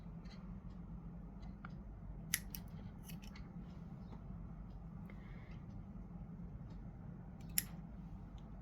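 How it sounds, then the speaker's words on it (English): Quiet, crisp snips of scissors cutting extra crochet yarn on a panda mug cozy, a few scattered clicks over a low steady hum. "so I'll just take the scissors and cut the extra yarn from here."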